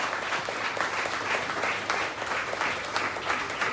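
Audience applause from a gathered crowd at a stage event, steady dense clapping throughout with no voices over it.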